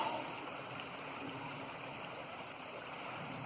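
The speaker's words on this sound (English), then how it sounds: "Rivers in Yorkshire are so fast flowing compared to those sluggish ones down south." The fast-flowing River Skell in Yorkshire gives off a steady, soft rush of moving water, heard at a distance at low level for the whole stretch.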